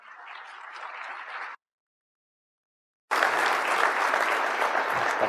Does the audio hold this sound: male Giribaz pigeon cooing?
no